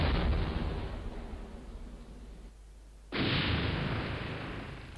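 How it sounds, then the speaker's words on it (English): An artillery cannon firing at an enemy battery in the Civil War strategy game Battleground: Antietam, heard as a loud, rough roar that fades, drops away briefly, then returns in a second sharp blast. "I'm gonna fire at the battery one more time."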